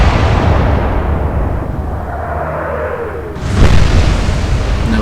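Naval guns firing in the video game Atlantic Fleet: one heavy boom bursts out midway, loud and close, above a constant low rumble of sea and engine noise, with no speech.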